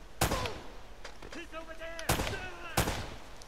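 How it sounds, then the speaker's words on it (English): Three sharp gunshots in Uncharted: Drake's Fortune, evenly spaced and loud, with short tonal game effects ringing between them. "Two headshots."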